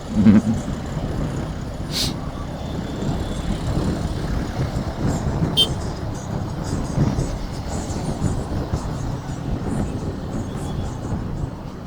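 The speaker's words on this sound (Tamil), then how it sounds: "இங்கே நிறைய டிராஃபிக் இருக்குது யூஸ்வலாக விட." Road traffic heard from a motorcycle on a Sunday ride makes a continuous, fairly loud rumble of engines and wind noise, with a few brief sharper passing sounds.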